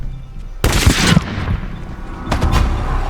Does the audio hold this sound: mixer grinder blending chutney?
no